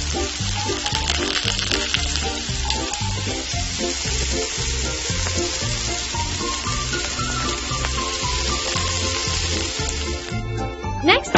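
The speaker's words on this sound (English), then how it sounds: "I started frying the crab." Steady, loud sizzling of crab frying in hot oil, with occasional stirring clatter throughout and no talking.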